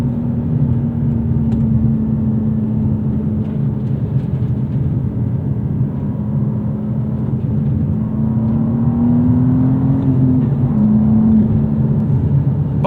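A turbocharged 2024 BMW M2 (G87) engine drones steadily from inside the cabin, a low continuous rumble with a rising and falling tone as revs change during acceleration and rev matching.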